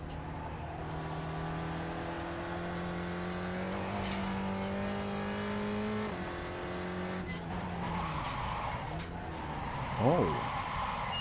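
A Mazda MX-5 sports car driven around the Summit Point track, its engine droning steadily and climbing in pitch through the gears, then a brief tire squeal near the end, with a voice talking over it.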